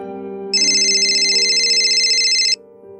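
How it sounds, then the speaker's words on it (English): An electronic phone ringtone warbles steadily for about two seconds, loud and close, over a low background hum. "the phone's ringing."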